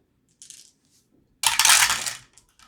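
Heroscape defense dice rattle and tumble, a small light clatter followed by a louder, denser burst of dice clattering across a surface.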